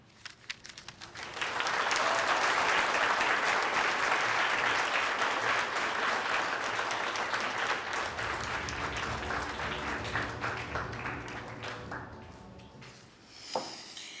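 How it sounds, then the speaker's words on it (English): Audience applause swells quickly at an evening community award ceremony, holding a full, dense clatter for about ten seconds before thinning out to a few scattered claps. "I sincerely applaud you."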